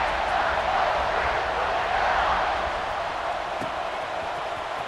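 Stadium crowd in the College Football 26 video game, a steady dense roar of cheering fans filling the whole stretch at an even, loud level with no distinct peaks.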